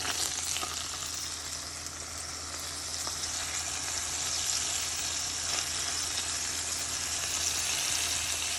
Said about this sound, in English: we can just use that same grease from the burgers and just put our strips in there